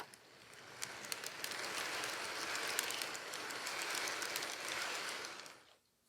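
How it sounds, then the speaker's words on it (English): A Lionel Polar Express model train with 18-inch passenger cars rolls along its track with a soft rushing whir and faint rhythmic clicks, swelling in and then fading out at the end. "let me pull the train forward"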